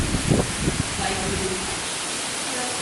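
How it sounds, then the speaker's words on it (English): A heavy February storm pours down with monsoon-like intensity, a dense steady roar of rain that holds without a break, with brief faint noises near the start. "It was a rare kind of February storm that was raging with the intensity of monsoons."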